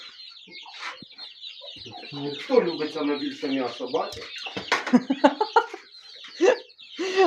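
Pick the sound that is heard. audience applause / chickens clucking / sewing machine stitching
chickens clucking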